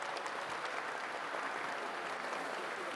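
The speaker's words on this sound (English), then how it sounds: "Can we have a round of applause for her" A faint, steady wash of audience applause at a ceremonial lamp lighting during a cancer awareness marathon event on a college campus, evenly sustained and distant-sounding.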